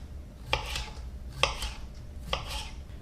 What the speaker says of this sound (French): Et puis je vais le couper en lanières.